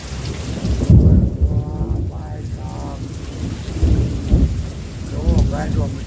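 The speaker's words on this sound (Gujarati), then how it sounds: "વીજળી જો ગાજે છે અને પવન પણ એટલો છે ભાઈ" A night thunderstorm brings heavy rain hissing steadily while loud thunder cracks and rumbles roll through, close and powerful, with gusty wind.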